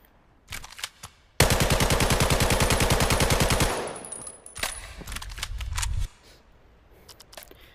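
A VTAR rifle fires in the video game Vail, first a few scattered shots and then a long rapid automatic burst, followed by more scattered shots and clicks, loud and close with no voices.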